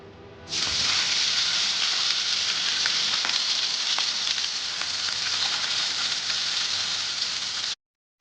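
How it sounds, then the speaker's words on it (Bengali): Tangra fish drop into hot oil left over from frying eggplant, setting off a sudden, loud, steady hiss and crackle that lasts several seconds and then cuts off abruptly. "এরপর ওই বেগুন ভাজা তেলের মধ্যে আমি মাছগুলো ভেজে নেবো"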